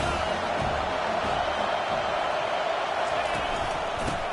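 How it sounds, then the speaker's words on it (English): Crowd noise fills a college football stadium as the home fans try to rattle the offense, a continuous broad roar with a few sharper bursts, steady and loud. "This crowd trying to make life miserable for this offense."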